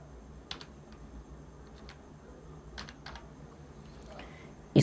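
A computer keyboard clicks as a captcha is typed in during an IDBI Bank internet banking login, scattered key taps over a quiet background hiss, with a louder click at the very end.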